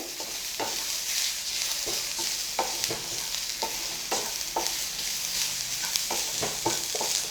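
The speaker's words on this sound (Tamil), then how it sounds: "ரெண்டும் போட்டு நல்லா வதக்கிடலாம்" Onion and tomato sauteing in a pan for egg podimas, a continuous sizzle broken by repeated stirring scrapes in an irregular rhythm, close and moderately loud with no speech.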